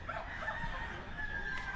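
Pet chickens cluck and crow close by, a steady run of bird calls over a thin background hum, with no talk.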